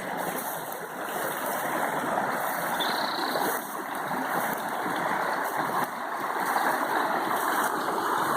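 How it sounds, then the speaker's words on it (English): A steady rushing of flowing creek water, continuous and fairly loud, with no voices. "This is an intermittent creek."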